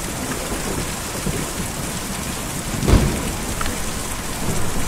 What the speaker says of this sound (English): Well, it is raining up here